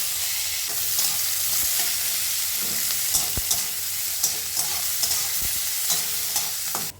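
Chopped onion sizzling in hot oil with whirled bay leaf and whole cumin tempering, stirred steadily with a spatula whose scrapes and taps punctuate the continuous close frying hiss.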